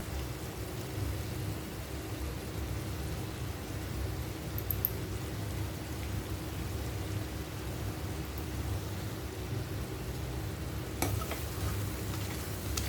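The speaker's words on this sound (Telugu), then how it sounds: "చికెన్ అయితే ఫ్రై అయిపోయిందండి." Chicken fries with green chilies in a pan, a steady close sizzle throughout with a brief utensil clink near the end, and no talking.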